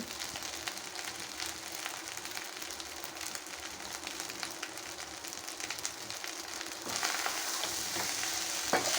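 Hotel-style beef fried rice frying in a hot pan, a continuous crackling sizzle with scattered pops and stirring scrapes, growing a little louder and busier near the end.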